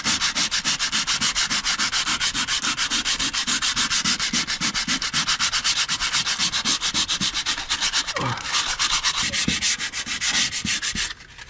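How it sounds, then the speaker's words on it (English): A power sander works steadily over wooden motorhome floorboards, a loud, continuous rasping hum with a regular pulsing rhythm that runs nearly unbroken and alone before stopping abruptly at the end. "first thing I'm going to do is sand this down"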